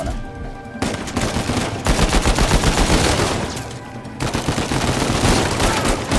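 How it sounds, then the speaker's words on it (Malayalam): Rapid gunfire from the video game Uncharted 4 during a prison escape, dense bursts of automatic shots rattling loudly and almost continuously, with short gaps between volleys. "മറ്റവനെ വെടിച്ച് നേരെ കവറെടുത്ത് അടുത്തവനെ വെടിച്ചത്"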